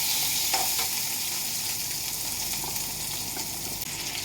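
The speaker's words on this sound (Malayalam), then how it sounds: "ലേശം വെളിച്ചെണ്ണ ഒഴിച്ച് ബാക്കി നമ്മൾ ഈ സവാള ഇട്ട് കൊടുക്കുന്നുണ്ട് സവാള നന്നായിട്ട് ഒരുവിധം വാടി നമുക്ക് വരണം" Sliced onions frying in coconut oil in a pan for a Kerala beetroot yogurt dish, a steady, fairly quiet crackling sizzle that goes on throughout, with a faint tap or two and no speech.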